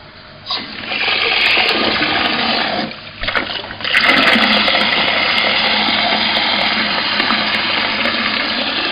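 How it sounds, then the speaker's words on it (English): Cooling water from a home distilling still's condenser runs in a steady, continuous gush and splash, with a short dip partway before the flow resumes loudly and evenly. "That's water coming from the condenser."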